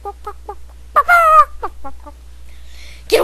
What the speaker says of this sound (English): Get away from my chickens.